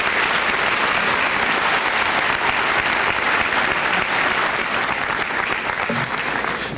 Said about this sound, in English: Let's have a round of applause for these special award winners.